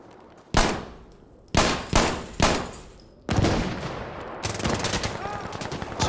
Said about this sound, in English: I'm gonna have to use my pistol so I can find an ammo crate.